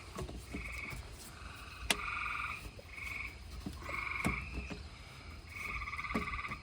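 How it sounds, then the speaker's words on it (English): Frogs croaking by a swimming pool in repeated buzzy bursts, several calls overlapping in a steady rhythm, close by, with a few sharp clicks in between. "Here are the frogs."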